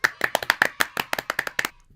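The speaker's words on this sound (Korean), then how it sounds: "우선 저희 박수 치면서 좀 오늘 시작할게요." Hosts in a studio clap their hands together, about a dozen sharp, close claps in a quick, steady rhythm that stop abruptly, leaving near silence.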